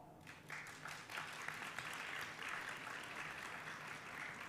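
A crowd at a college commencement ceremony applauds, a dense, even patter of many hands clapping that swells quickly and holds steady, heard from a slight distance.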